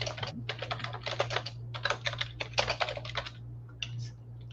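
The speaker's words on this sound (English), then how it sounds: "I'm just typing this down because I can't copy it from there." Fingers type on a computer keyboard in rapid bursts of clicking keystrokes, close and moderately loud, with short pauses between flurries and a steady low hum underneath.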